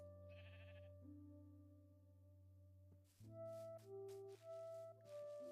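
Several short Minecraft sheep bleats in succession, clear and close, over a steady synthetic background hum with tonal music notes.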